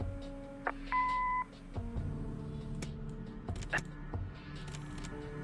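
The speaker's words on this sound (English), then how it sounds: "Leave a message after the beep." An answering machine in the Kathy Rain video game gives a short, clear electronic beep, a steady tone lasting about half a second, amid faint clicks and quiet game sounds.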